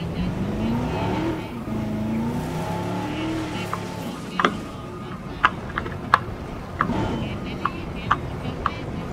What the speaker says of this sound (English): So now I will drive our vehicle.